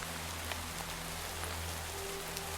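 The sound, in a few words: rain in the video game Minecraft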